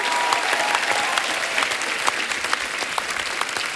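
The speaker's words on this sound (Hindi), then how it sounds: "इनके लिए जोरदार तालियां हो जाए" A studio audience at a Hindi comedy talk show claps loudly and steadily, dense continuous applause filling the whole stretch without letup.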